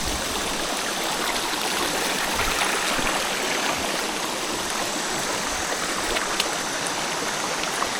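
Creek water rushes steadily near a hidden waterfall, a constant broadband stream noise close by with no pauses, bright and full throughout the whole stretch.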